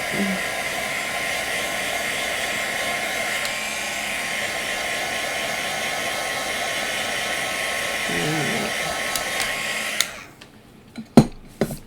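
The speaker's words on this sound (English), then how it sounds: "I'm going to hit them on the low speed on my heat gun" A heat gun on its low setting blows a steady, even whoosh over card stock for about ten seconds, then cuts off, leaving a few light knocks and handling sounds.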